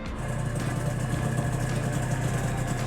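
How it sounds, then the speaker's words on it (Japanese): The two-stroke engine of a restored 1989 Honda NSR250R motorcycle, unused for 35 years, runs at a steady, buzzy idle, close and continuous throughout with no pauses. "動作確認のためにエンジンをかけてみました。"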